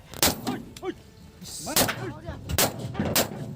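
Several sharp gunshots fired by forest staff to stop a rhino crack out in an irregular series, fairly near. People talk in between the shots.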